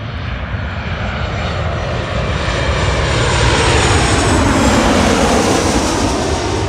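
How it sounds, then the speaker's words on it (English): Jet airliner touching down on runway 24R at Los Angeles International Airport, a loud, steady broadband engine roar that swells slightly and holds for several seconds, close and continuous with no talk. "As that Southwest Airways flight touches down on 24 right"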